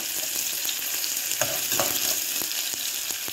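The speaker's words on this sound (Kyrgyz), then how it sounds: "Мына биз пиязды кууруп атабыз, артынан эле азыр этти салабыз." Onions and meat sizzle steadily in hot oil in a pan, a dense continuous frying hiss with a few brief clinks partway through, close and with no voices.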